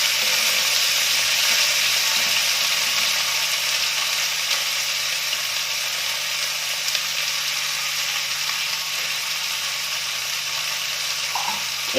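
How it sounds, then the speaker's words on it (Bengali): Periwinkle snails (guguli) sautéing in a pan with chopped tomatoes, village-style cooking, giving a steady, close, even sizzle and fry hiss that runs unbroken throughout with no voices. "এগুলোকে এখন একটু"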